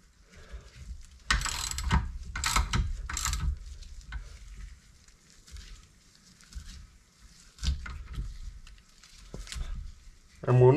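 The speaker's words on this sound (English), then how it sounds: "a socket on this end, and we'll need a spanner. Shouldn't have to use too much force, and just wind the bearings in" A ratchet and socket wind bearings into the top arm of a Classic Mini, giving short bursts of clicking with quiet gaps between them. A voice can be heard faintly.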